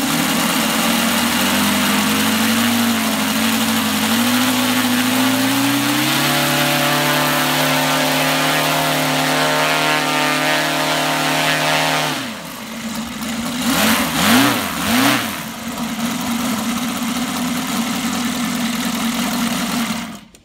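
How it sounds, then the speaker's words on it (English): A UMS 115cc engine spinning a 27x12 propeller runs loud and steady at high revs, then drops back and gets several sharp throttle blips before settling into a steady drone again. "One more rev up."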